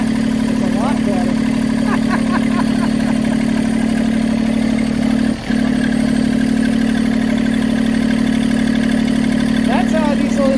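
A Massey Ferguson GC2310 compact tractor's diesel engine idles steadily after starting, a loud, close, even low hum with a constant tone and a brief dip midway, with a voice over it.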